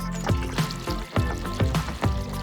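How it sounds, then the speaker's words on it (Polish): Water poured onto the ground splashes in several uneven pours and gushes, with short pauses between the bursts. "Wyleję trochę wody na ziemię."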